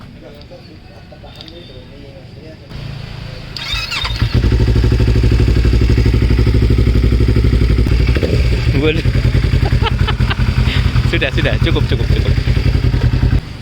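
A Yamaha MT25 streetfighter with a 320 cc engine starts up and settles into a loud, steady idle with sharp throttle revs, close by. A voice speaks briefly before and over the engine.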